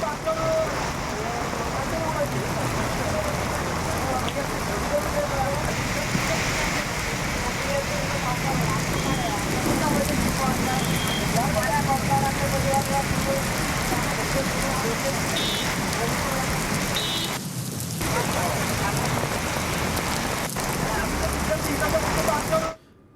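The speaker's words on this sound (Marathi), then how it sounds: "नागपूरमध्ये आपण बघतोय मुसळधार पावसाला सुरुवात झाली" Heavy monsoon rain falls in Nagpur, a dense, unbroken hiss and patter close by, steady and loud for the whole stretch, with faint traffic underneath and no clear voices.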